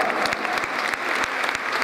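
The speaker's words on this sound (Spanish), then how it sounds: "Le damos un aplauso al hermano." A room full of people applauding at a church intercession groups' anniversary gathering, brisk, dense clapping at a steady level for a couple of seconds.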